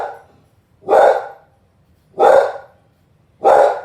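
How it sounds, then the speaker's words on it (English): A dog barking nearby, three loud single barks spaced about a second and a quarter apart, with quiet between them and no talking. "That's my dog."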